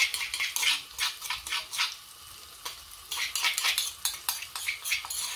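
Chili and garlic stir-fried in a pan over low heat, with busy clinking stirs and scraping of a utensil against the pan over a soft sizzle, close and continuous.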